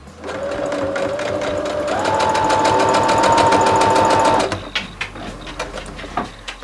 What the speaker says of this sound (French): je vais venir coudre.